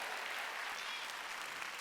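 Church congregation applauding during a Sunday worship service, a steady dense wash of many hands clapping that holds even and fairly faint throughout, with no break or pause.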